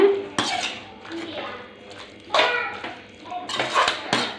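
Spoon stirring chicken gravy in a metal pot in a home kitchen, irregular scraping clinks against the pot in short bursts, close and moderately loud, without talk.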